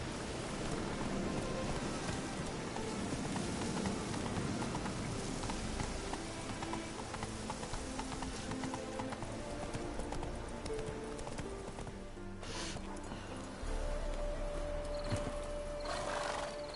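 Roach, the horse in Witcher 3, gallops with rapid rhythmic hoofbeats over a rain-soaked ambience. A whinny sounds partway through, and a tonal game sound enters near the end.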